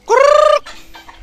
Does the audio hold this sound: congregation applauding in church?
no